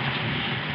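Heavy storm rain pours down as a dense, steady hiss filling the brief moment, loud and unbroken, with no voices.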